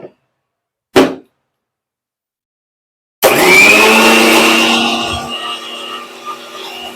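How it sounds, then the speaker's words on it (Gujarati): A mixer grinder crushes ingredients for panipuri water after lemon juice is added, starting with a brief clack, then a loud whirring motor roar that runs steadily and slowly eases near the end. "હવે આપણે આને મિક્સરમાં ક્રશ કરી લઈએ."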